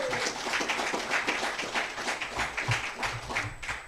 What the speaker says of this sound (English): Please give another round of applause for Brother Joseph and all that he shared.